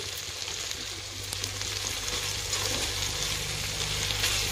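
Brinjal pieces fry in hot oil, giving a steady, dense sizzle that holds evenly throughout with faint crackles and no talking.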